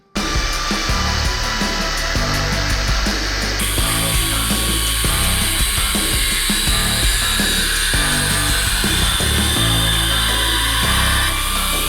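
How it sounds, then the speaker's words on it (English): Jigsaw used as a reciprocating saw with a homemade blade, cutting through parts of a Mercedes W203 car in a backyard, a loud continuous rattling buzz with shifting tone close up, no talk. "That worked way too good, using a jigsaw as a sawzall."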